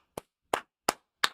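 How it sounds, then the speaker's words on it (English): Four separate sharp claps ring out at an even pace, close and crisp, with silence between each, as part of a Chinese New Year celebration. "Clap it up, clap it up, clap it up."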